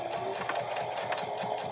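A sewing machine back stitches at a marked point while sewing a zipper into a pillow, a close, steady rapid mechanical chatter with rhythmic needle pulses throughout.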